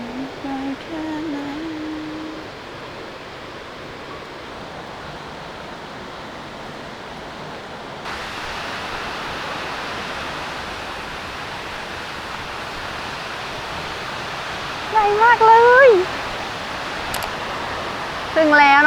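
Huai Luang waterfall, the largest in southern Isan, roaring as a steady broadband rush throughout, with a voice briefly heard over it at the start and again near the end.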